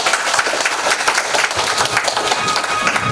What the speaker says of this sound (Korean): 여러분 박수 한번 해주십시오.